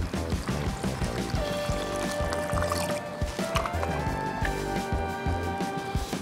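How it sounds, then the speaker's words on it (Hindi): Water being poured into a pot of Rajasthani laal maas mutton curry holding lamb shanks, yogurt and spices, a steady splashing gurgle running throughout under a faint tonal background hum. "अभी हम थोड़ा सा पानी डाल देते हैं इसमें"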